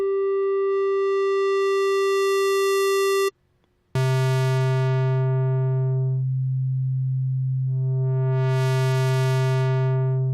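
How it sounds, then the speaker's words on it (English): A Massive software synthesizer oscillator sweeps between sine and square waveforms, a steady pure tone that gains bright buzzy harmonics, breaks off briefly, then returns with a heavy low drone and harmonics fading and swelling again. "in the sine square selection, we can morph between sine wave,"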